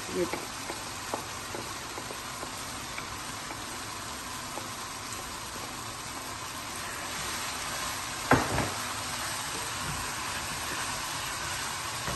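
Chopped onion frying in a pan for masala bhindi makes a steady, even sizzle throughout, with one brief clatter partway through as something is stirred or dropped in.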